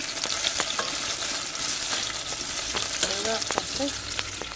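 Onions frying in a pan with a steady, bright sizzle that fills the whole clip, broken by occasional stirring clicks and scrapes, close up and without speech.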